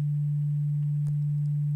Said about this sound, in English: Just a simple sine wave, and it's from the output.